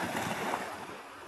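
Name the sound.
sea waves at the beach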